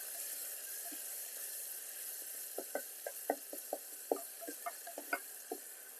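Ginger garlic paste hits hot oil for mutton chops, giving a steady soft hiss overlaid with a scatter of quick crackles and pops that thicken midway, fairly quiet and close, with no voices.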